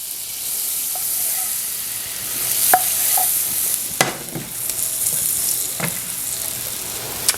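Butter melts in a hot pan with a steady, close sizzle and hiss, and sharp clinks of a utensil against the pan break through it now and then.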